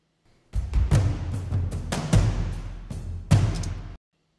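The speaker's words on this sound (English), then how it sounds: "Drums, they sound like this." Layered orchestral trailer drums play a steady pattern of booming low hits and sharper accents, loud and close, for about three and a half seconds before stopping abruptly, with no talking.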